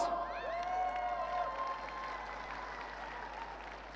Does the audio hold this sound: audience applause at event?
yes